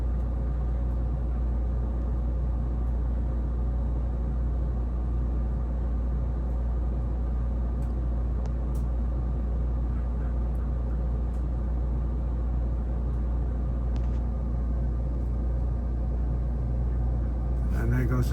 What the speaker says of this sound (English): There goes the first air conditioner. Compressor kicks in, went up to 19 amps.